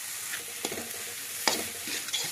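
Noodles stir-fry with masala in a hot pan, a constant loud sizzle overlaid by scraping stirs and a few sharper spatula hits.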